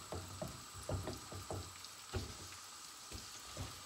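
Persimmons roasting in a large frying pan, giving a faint, steady sizzle with scattered crackles and light pops.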